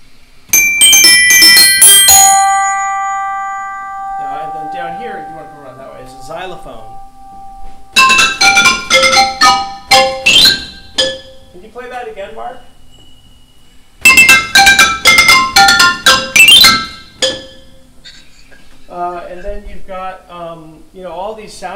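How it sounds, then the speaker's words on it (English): Struck glockenspiel in a music studio, bright metallic bar notes ringing in clustered runs and single decaying tones, separated by pauses, fairly close and loud. "this is a uh, Glockenspiel"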